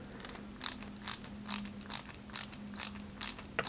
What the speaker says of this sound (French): On prend une grosse vis CP et on va en fait la fixer avec la pièce du haut.